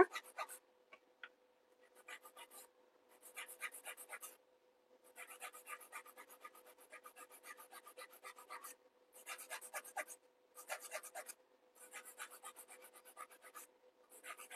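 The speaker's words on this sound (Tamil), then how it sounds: "ஃபைலர் எடுத்துக்கலாம். எடுத்துட்டு உங்களுக்கு என்ன ஷேப் வேணுமோ நீங்கள் அது மாதிரி கொண்டு வாங்க." A hand file rasps back and forth to shape a piece, sounding as bursts of quick, close, scratchy strokes separated by short pauses, with no voices.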